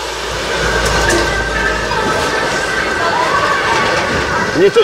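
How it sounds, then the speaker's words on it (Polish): A yellow tourist locomotive train rolls through the old town of Segovia, giving a steady, loud rumbling drone with rail and street noise throughout, and faint voices and a couple of brief squeaks near the end. "bo no proszę, żółta lokomotywa"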